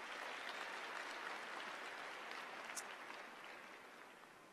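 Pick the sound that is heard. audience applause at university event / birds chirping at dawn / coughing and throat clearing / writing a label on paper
audience applause at university event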